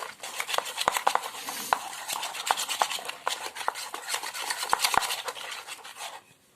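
Batter for fried pabda fish whisked briskly in a bowl: rapid, rhythmic clinking and scraping of a utensil against the sides, close and steady, fading out near the end.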